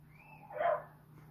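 A neighbouring dog barks once from next door, a single muffled yap in a quiet room, heard at a distance.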